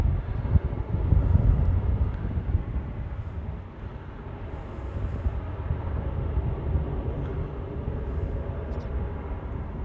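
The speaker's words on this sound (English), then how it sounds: "So here's the Qantas. So it's coming in from Melbourne." A Qantas airliner arriving from Melbourne at Honolulu airport produces a broad, continuous low rumble of jet noise, steady and moderately loud, with no voices.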